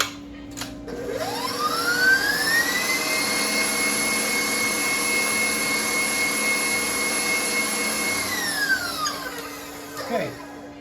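An electric mixer whips chocolate ganache made of cream and chocolate for a Boston cream pie cheesecake. Its motor whine climbs in pitch, holds steady for several seconds, then winds down, loud and close, with no talk.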